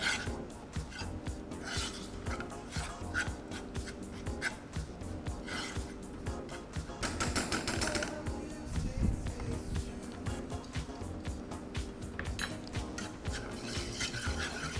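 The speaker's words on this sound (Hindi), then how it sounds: "ये मेरे पास इसका अपना सॉस बनाने का विस्क है जिसे मैं इस्तेमाल कर रही हूँ" A sauce whisk stirs a homemade sauce in a pan in a home kitchen, giving continuous rhythmic scraping and swishing strokes with occasional metallic clinks, close and moderately loud.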